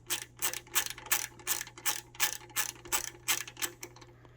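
A ratchet drives in the bolts of Harley four-point docking hardware on a Road King, giving a close, crisp series of about a dozen evenly spaced clicking bursts.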